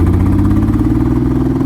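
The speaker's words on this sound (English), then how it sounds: "Give it a little throttle, just a hair." Mercedes-Benz W124 turbo engine with a smoking PCV valve, given a slight blip of throttle: steady, loud, close-up rumbling engine note held evenly throughout with no talk.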